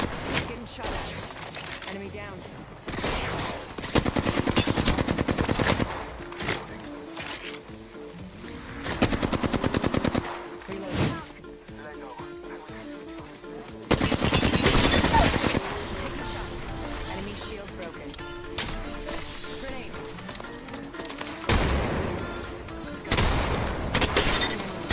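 Repeated bursts of Flatline assault rifle fire in Apex Legends, sharp rapid automatic volleys coming in several clusters with brief gaps, loud and close, mixed with scattered impacts and some speech.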